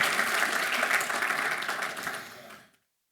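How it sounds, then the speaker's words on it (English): An audience at a live talk claps in a dense, steady round of applause that stays strong, then tapers off and stops abruptly near the end, leaving silence. "give your guys a round of applause for being here today"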